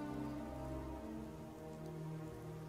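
Steady rain falls throughout as background ambience for a fantasy tabletop role-playing session, with a dense, even patter and hiss and no voices.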